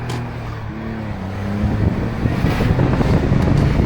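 Smart Roadster, a rare right-hand-drive car with a small turbocharged engine of about 89 horsepower, revs loudly and climbs as it shifts, with a low engine drone under strong wind noise building over a few seconds.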